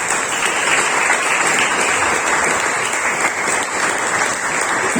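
Steady congregational applause fills a church, dense and continuous with no voices standing out.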